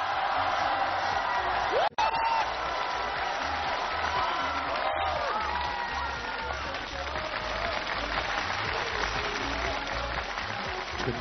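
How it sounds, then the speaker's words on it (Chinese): Sustained applause from a large television-show audience welcoming two hosts onto the stage, a steady dense clatter of clapping with scattered whoops that holds evenly across the whole stretch. "掌声有请倪萍、"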